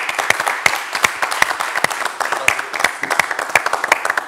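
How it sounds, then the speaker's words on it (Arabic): Studio audience applauding on a television game show set, a steady burst of many hands clapping with sharp individual claps throughout, loud and close, with no talk over it. "المرة هذه احنا باش نطلب اللي حاضرين في البلاتو يصفقوا على الببليك"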